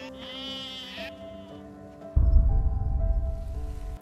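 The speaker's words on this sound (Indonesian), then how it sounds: "pengembala kambing yang sedang mengembalakan kambingnya" Goats bleating by a lake in a film scene, a couple of drawn-out wavering cries over quiet tonal background music, then a louder rustling, rumbling ambience takes over.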